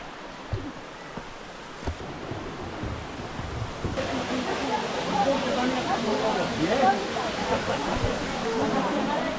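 A waterfall in Cyprus, a swimming spot crowded with tourists, gives a steady broadband rush of falling water that swells louder partway through, with faint gusts of wind against the microphone.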